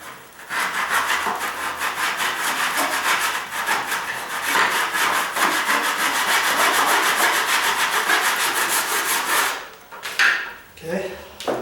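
A hand saw cuts through wooden quarter round baseboard trim in quick, even back-and-forth strokes, loud and close, for about nine seconds before it stops, followed by a few light knocks and rubs.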